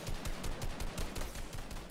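Rapid gunfire from the video game Fortnite crackles in dense, fast bursts at a moderate distance, with no talking over it.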